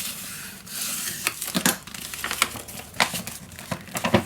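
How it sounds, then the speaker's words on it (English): Paper for a handmade mini album being creased and folded, close up, with crisp crinkling rustles and a few sharp creasing snaps spread over several seconds, no talking. "Okay, I'm gonna fold this piece."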